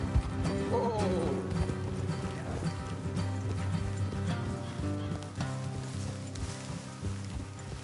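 Horses from a video game, Red Dead Redemption style riding scene, hooves clopping steadily beneath a dense bed of game music and ambience, with brief snorts; loud and continuous throughout.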